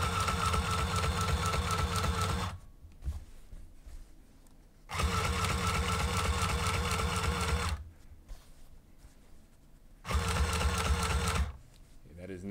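A sewing machine stitches a tripod carrying bag in three loud, close bursts of rapid mechanical clatter, separated by short quiet pauses in a workshop.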